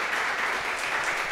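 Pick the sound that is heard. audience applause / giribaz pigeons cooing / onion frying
audience applause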